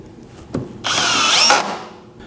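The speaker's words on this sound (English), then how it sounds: "clutch down your drill so you don't overdrive things" A clutched-down drill drives a screw into a Jessem router table stand with one loud, close whir of about a second, a sharp tap just before it.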